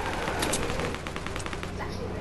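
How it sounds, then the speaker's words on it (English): Gunfire in Fortnite comes as a rapid series of sharp repeated shots at a steady rhythm, with a player talking over the shooting throughout. "And then I could just keep shooting."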